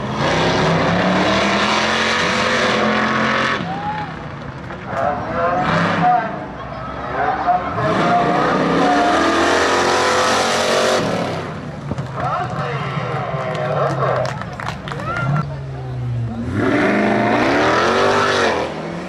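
Drag race cars, including a 900-horsepower Hellcat, roar and accelerate down the strip at Bethel Speedway spectator drags, loud engine bursts rising and falling in waves over about twenty seconds, with people talking and cheering over them.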